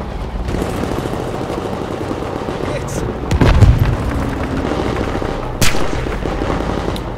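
Sniper rifle shots in the Battlefield 5 closed alpha ring out amid constant battlefield din, with a heavy boom near the middle and a sharp crack later, while a player talks over the noise.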